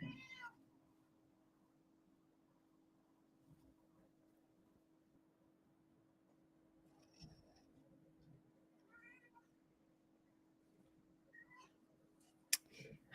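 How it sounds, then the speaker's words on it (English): A cat meows several times, short faint calls scattered across a quiet indoor room over a steady low electrical hum. "Aunt Cat, what do you want?"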